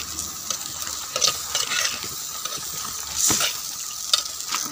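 Liver curry simmering and bubbling in a pan while being stirred, a steady close sizzle with scattered scrapes and clinks running throughout, no voices.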